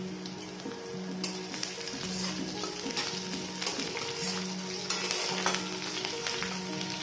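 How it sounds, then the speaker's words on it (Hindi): Onions fry lightly in a pan with a continuous soft sizzle and crackle, overlaid by repeated rhythmic stirring and scraping strokes, close and moderately quiet, with no voices. "प्याज को आमे हल्का टिके भाजिबा प्याज रो कलर एठी आमे चेंज करिबा नै"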